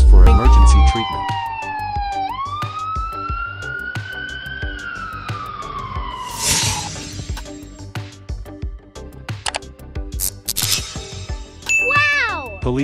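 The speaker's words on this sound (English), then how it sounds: "Wow! Ambulance truck." Ambulance siren wailing in a rising and falling sweep, loud and close, with clanging dings and other vehicle sounds around it and a voice speaking briefly.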